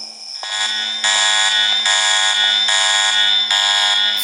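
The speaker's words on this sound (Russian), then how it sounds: "Блин, тупая сирена." A loud, harsh electronic alarm siren blares in the horror video game Mr Meat, a steady buzzing tone pulsing in repeated long blasts with no pauses or voices.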